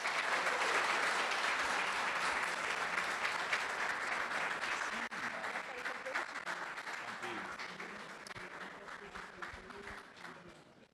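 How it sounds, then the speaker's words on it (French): A French public-speaking event audience claps for an arriving speaker, dense sustained applause filling the room and slowly thinning toward the end, with faint voices underneath. "Mesdames, messieurs, veuillez applaudir Monsieur D'Angelo Neyard."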